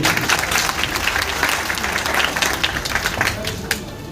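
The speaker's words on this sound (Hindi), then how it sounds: "बहुत बढ़िया, जोरदार तालियां।" Audience applause at a community event in Kanpur, a dense steady wash of many hands clapping close and loud for about four seconds, with scattered sharper claps rising out of the roar.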